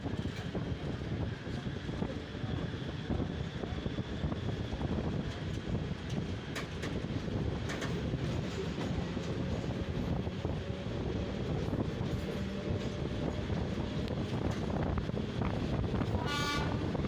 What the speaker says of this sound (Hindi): सामने आप देख पा रहे हो DMU पैसेंजर ट्रेन खड़ी है, जो कि फाजिल्का से फ़िरोज़पुर के मध्य चलती है